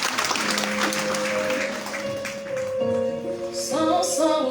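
An audience at a queens' grand-entrance celebration breaks into moderate applause that swells and dips, mixed with held musical tones and brief voices in the background.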